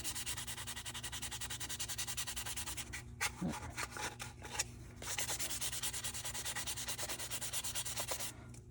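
Steady, continuous rubbing of sandpaper against a plastic part of a Polar Lights 1/350 scale TOS Enterprise model kit, with a brief pause midway before the scratchy back-and-forth resumes.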